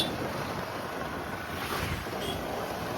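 Sea waves wash steadily at the shore near Gopalpur on the Odisha coast, a continuous broad surf roar mixed with wind buffeting the microphone, with no voices.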